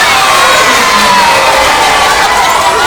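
A large crowd of school supporters cheering loudly and continuously at a football match, dense shouting from many children and adults with no pauses.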